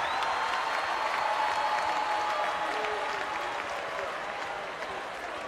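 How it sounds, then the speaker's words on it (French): A large audience at a French-language comedy show applauds and cheers, making a dense, steady wash of clapping that fades slightly toward the end. "On fait du bruit pour la Lucie"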